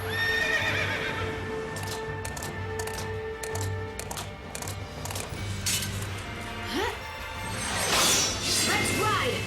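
In the Final Fantasy XIII video game, a horse neighs and its hooves clatter in a galloping rhythm, loud and mixed with game effects and crashes, while a voice talks over it.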